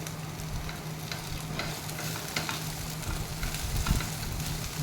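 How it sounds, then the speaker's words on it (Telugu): Raw banana and sweet potato frying in a pan, with a steady close sizzle and crackle throughout and occasional scraping stirs, without any talking. "అదిగోండి అరటికాయ ఇంకా కొంచెం వేగాలి చిలకడ దుంప వేయండి"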